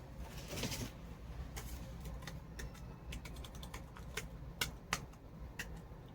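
Keys clack on a wireless computer keyboard in irregular bursts, some taps sharper and louder than others. The typing is fairly close and quiet, with no speech, and a pigeon's coo may sit faintly in the background.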